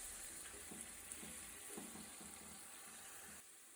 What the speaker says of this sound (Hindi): टमाटर को भी हमने अच्छे तरीके से भून लेना है।